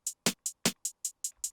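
Snare and hi-hat pattern from a trap beat, eight crisp bright hits in a bouncing rhythm with two louder snare strikes among the ticking hats, played alone with no talk.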